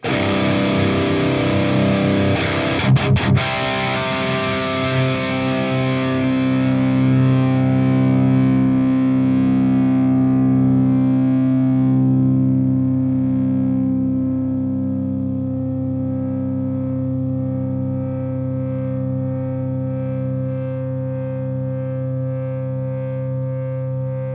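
Distorted electric guitar rings out, and sustained notes bloom into loud, steady feedback tones that hold and drone for many seconds before slowly thinning.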